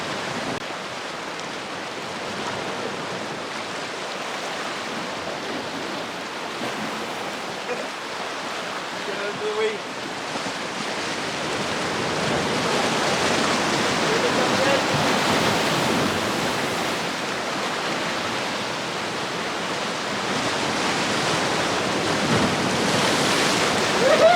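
Sea waves break against the rocks at Worms Head on the Gower coast, a steady roaring wash that swells louder in the second half, with wind buffeting the microphone.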